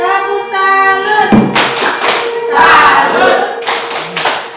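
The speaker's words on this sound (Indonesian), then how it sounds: "Lalu kita kasih tepuk salut untuk manusia ya." A classroom group gives a rhythmic 'tepuk salut' cheer clap for a student at the end of a lesson, with loud bursts of clapping mixed with children's voices chanting.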